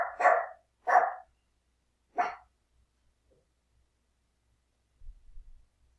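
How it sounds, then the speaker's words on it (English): Dog barking indoors, three sharp barks in quick succession with short gaps, fairly close, followed by silence and a faint low thump. "excuse the dog barking"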